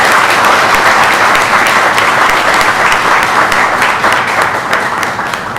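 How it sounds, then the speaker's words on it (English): Audience applauding in a hall at the grand finale of a CA students' debate competition, steady, dense clapping filling the room and slowly tapering near the end, with no talk over it. "a big round of applause for each one of you around sitting in this hall"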